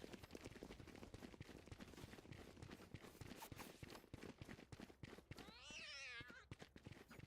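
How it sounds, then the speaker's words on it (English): A cat lets out one drawn-out, wavering scream near the end, over dense, rapid gunfire from a Valorant match playing throughout. "The screaming cat, as you do."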